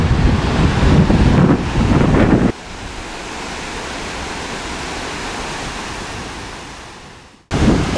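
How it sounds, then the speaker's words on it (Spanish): Sea waves at Colán beach, a loud surge of surf that drops abruptly into a softer continuous wash of breaking water, then swells back up near the end, with no voices. "Vean ustedes, el mar es apacible y bastante cálido."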